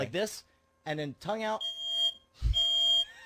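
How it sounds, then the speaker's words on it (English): A smoke alarm indoors emits a thin high electronic tone that sounds in sustained stretches, heard faint behind a voice that speaks between bursts, along with a short low thump. "That's the smoke alarm."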